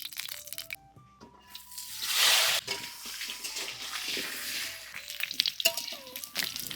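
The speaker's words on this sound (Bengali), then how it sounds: "আলুটা প্রথমে ভেজে নিই। দিয়ে দিচ্ছি সর্ষের তেল," Potatoes frying in mustard oil give a crackling sizzle that swells loudly at one point, set among clinks and stirring, with bird-like tones in the background and no speech.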